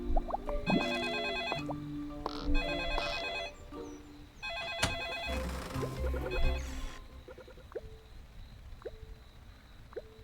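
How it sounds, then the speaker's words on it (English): A telephone rings in the Desperate Housewives video game, its electronic bell trilling in repeated bursts over game music and effects, then fading to sparse soft tones. "Oh, the phone."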